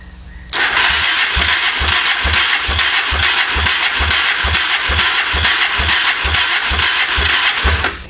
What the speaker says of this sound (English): Then you turn your motor over.